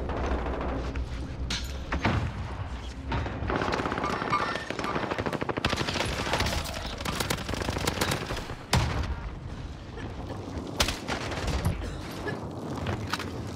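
Gunfire in Call of Duty Warzone on Rebirth Island crackles throughout, with machine-gun bursts, single shots and a few booms over dense game noise as the player is hit.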